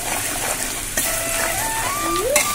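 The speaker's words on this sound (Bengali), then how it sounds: "পেঁয়াজটা ভালো করে ভাজা হয়ে যাক" Chopped onions frying in a pan, a soft steady sizzle with faint stirring scrapes and a couple of brief clinks, moderately quiet and close, no talking.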